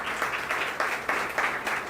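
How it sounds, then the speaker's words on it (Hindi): Clapping rises from a congregation at a church question-and-answer gathering, coming in pulsing bursts that repeat several times within two seconds at a moderate level. "ज़ोरदार तालियां बजाएंगे"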